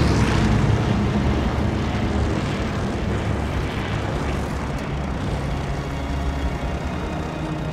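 A World War II fighter plane's propeller engine drones loud and steady throughout in the Call of Duty: Vanguard video game, a dense continuous roar with no speech over it.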